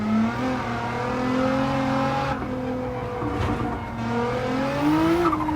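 A race car in Gran Turismo 7 screams at full throttle past 200 mph, its engine a steady loud high-pitched drone with rising harmonics, continuous and close with no talk.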